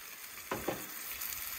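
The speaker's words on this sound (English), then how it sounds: "It's gonna sizzle like that for a while." Steady soft sizzling of food in a hot pan, with a couple of brief louder crackles or stirring scrapes partway through.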